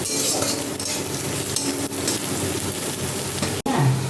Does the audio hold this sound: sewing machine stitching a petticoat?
no